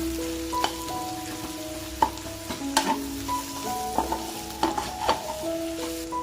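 Sliced onions and green chillies fry in hot oil in a pan for a spicy South Indian onion chicken fry, a steady close sizzle broken by repeated scraping stirs and clinks of the spoon, with no talking.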